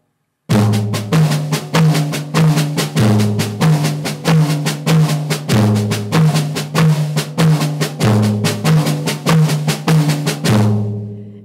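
A drum kit plays a slow flam accent rudiment in triplets, with accents moving across floor tom, high tom and snare, loud and close in a steady repeating pattern, ending with a short ring-out.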